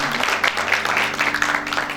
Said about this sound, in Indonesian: Oke, kalau gitu kita berikan tepuk tangan buat Pak Guru.